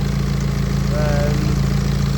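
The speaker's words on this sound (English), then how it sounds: "the engine doesn't sound as bad" Running engine of a BMW 1 Series with a fault under repair, recently fixed exhaust and DPF, a loud steady close-up idle with a low hum, continuous throughout.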